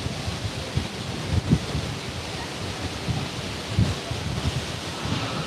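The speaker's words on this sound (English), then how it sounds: "It's windy." Gusty wind buffets the microphone on a river embankment in Rostov-on-Don, giving low rumbling bursts that rise and fall throughout.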